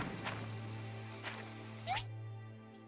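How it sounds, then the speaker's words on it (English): Rain falls in the video game My Time at Portia, a soft steady patter over a low ambient hum, faint and continuous, with a brief chime near the end. "Oh, it's raining today."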